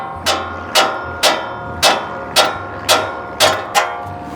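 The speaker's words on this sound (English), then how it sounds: "carefully hit the side of it, try to get this this bolt to go through" A hammer striking a bolt to drive it through a suspension mount on a 5th Gen Toyota 4Runner, eight sharp metallic blows at an even, steady rhythm, close and loud with a faint mechanical hum between hits.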